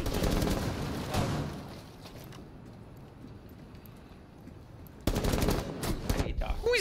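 Rapid video game gunfire in bursts, loud automatic shots at the start and again near the end, with quieter movement sounds between them.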